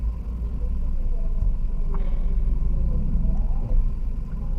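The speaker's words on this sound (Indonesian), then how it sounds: "Ini papasan mobil nih" A car squeezes past an oncoming vehicle on a narrow back-alley street in Indonesia, heard from inside a ride-hailing car as a steady low engine rumble and road drone at moderate level.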